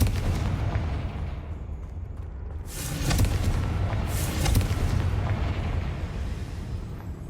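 Confringo and Bombarda spell blasts from the Hogwarts Legacy game, heard as booming explosive bursts around three and four and a half seconds over a rumbling battle backdrop, loud and close.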